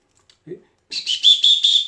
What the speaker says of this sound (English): Use my whistle.